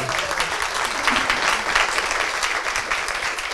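A live audience applauds at a talk event with Maria Shriver, a dense, sustained roar of clapping that holds evenly throughout at a fairly loud level, with no voices on top.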